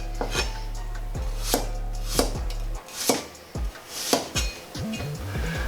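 A knife slices garlic on a cutting board in a home kitchen, giving a series of crisp, close chopping taps in a fairly steady rhythm, each with a light wooden knock, and no talking.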